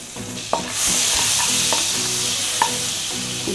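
Butter sizzles and crackles steadily in a hot pan for Japan chicken, a creamy malai-style dish, with a few sharp clinks of a utensil against the pan over the continuous frying hiss.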